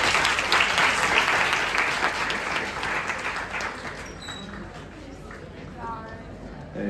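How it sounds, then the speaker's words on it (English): A crowd gives sustained applause at a medical college orientation session, dense continuous clapping that holds steady and then tapers off gradually, with faint voices mixed in. "everybody please a great round of applause for our esteemed patrons"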